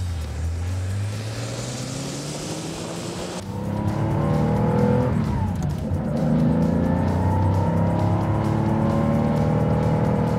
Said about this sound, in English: Let's fire it up, pedal to the metal.